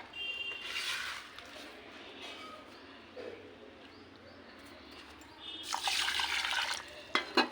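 Tap water runs into household vessels, a splashing gush near the start and a louder fill toward the end, close by, with birds and pigeons calling faintly in the background.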